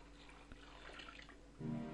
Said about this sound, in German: Füllen etwas klares Wasser da rein.